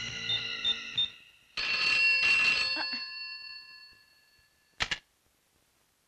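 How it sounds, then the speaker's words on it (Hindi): Telephone ringing in a film scene as an inspector calls a hospital: several bright electronic trill bursts, a longer ring that decays slowly, then a short final burst, fairly quiet overall. "दांडेकर साहब तनिक अस्पताल में फोनवा तो करके देखिए"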